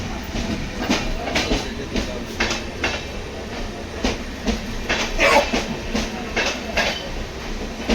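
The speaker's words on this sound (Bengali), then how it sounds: "ট্রেনের স্লিপার ক্লাসে ছিল" Inside a moving sleeper class railway carriage, wheels clatter over rail joints in a steady rhythmic clickety-clack beneath a constant rumbling hum, with one brief squeal midway.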